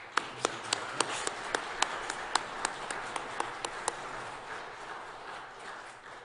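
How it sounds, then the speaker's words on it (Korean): A church congregation gives a round of applause during a Sunday service, heard as a sparse run of distinct claps, about a dozen sharp hits spaced unevenly over the first four seconds, fading out afterward. "축하하시고 격려하시는 마음으로 우리 박수하도록 하겠습니다"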